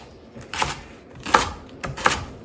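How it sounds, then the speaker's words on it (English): A knife chops vegetables for roasted vegetables with couscous, three separate crisp cuts landing about a beat apart on a board over a quiet kitchen background. "I'm just going to start chopping up vegetables for our roasted vegetables with couscous"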